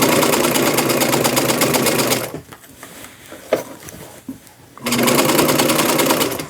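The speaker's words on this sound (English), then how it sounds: "hopefully your sewing machine can do this" A sewing machine runs in two fast, steady bursts, stitching gathered fabric for an upcycled boho braided beach dress, with a quieter pause of faint handling noise between the runs.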